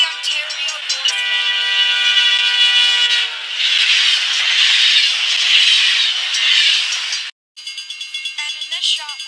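An ex-Milwaukee Road railroad switcher locomotive works close by in the Fox River Railroad yard, a loud steady engine drone with a sustained tonal whine for about seven seconds, then a brief break and rhythmic chugging pulses.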